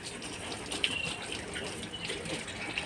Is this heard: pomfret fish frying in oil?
no